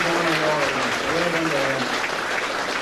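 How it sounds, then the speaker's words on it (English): A crowd gives warm applause for two motorcycle racing champions at an evening event in a Vauxhall dealership, a dense, steady wash of clapping throughout with voices and cheering mixed in underneath. "they deserve a warm round of applause for what they've done for the sport"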